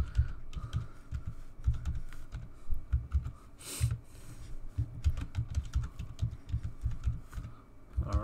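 A password being typed on a computer keyboard, a steady run of soft, close key taps at an even rhythm, with one sharper clack midway and no voices.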